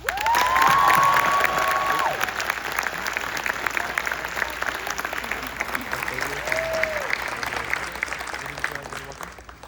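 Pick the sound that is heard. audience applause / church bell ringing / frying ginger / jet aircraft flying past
audience applause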